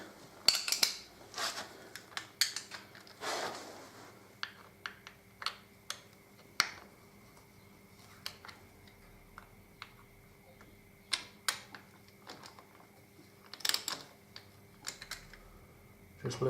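Screws on a Harley Davidson 88ci inspection cover are loosened one after another, giving sharp scattered metallic clicks and ticks at uneven intervals, close and quiet, with a few brief louder rustling bursts between them.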